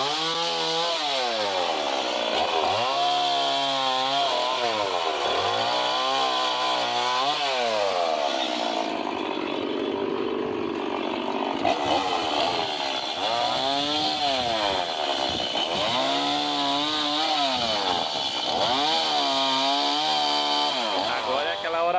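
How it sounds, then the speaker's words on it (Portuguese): A chainsaw revs and bogs repeatedly as it cuts through storm-felled trees at a car scrapyard, its engine pitch rising and falling in long strokes, loud and close. "Pensa na motosserra boa"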